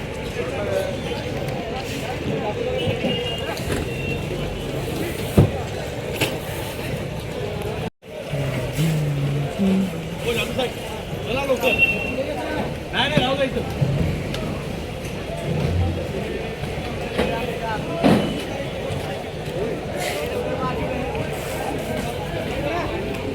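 Large goods trucks carrying mangoes from Ratnagiri roll into the busy Vashi wholesale market with a steady rumble of engines and traffic, plus occasional thumps and knocks from the surroundings.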